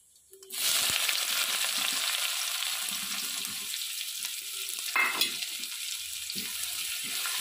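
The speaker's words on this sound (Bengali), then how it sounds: "এই তেলে আমি তেজপাতা আর জিরে দিয়ে দেব।" Bay leaves and cumin seeds dropped into hot oil, bursting into a sudden loud sizzle that holds as a steady close hiss, with a brief louder crackle midway and light utensil clinks, no talk.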